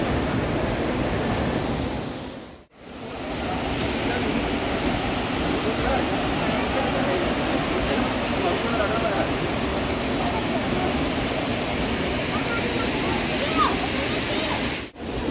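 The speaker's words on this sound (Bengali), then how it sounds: "দেখতে পাচ্ছি এই যে আমার পিছনে দশম ফলস।" Dassam Falls near Ranchi, a waterfall with people bathing below it, gives a loud, constant roar of rushing water, close and unbroken across the scene.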